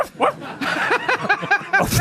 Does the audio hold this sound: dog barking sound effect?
yes